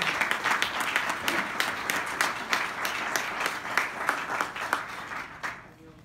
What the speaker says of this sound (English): So please give a round of applause for Javier Castellano.